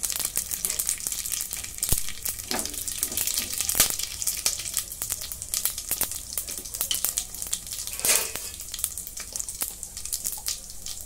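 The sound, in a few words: whole spices (black pepper, cardamom, cinnamon, bay leaf) frying in oil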